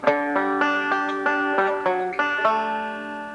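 Bright plucked banjo notes in a steady forward-backward roll, beginner bluegrass picking, each note ringing into the next in an even flowing pattern, played alone with no talk.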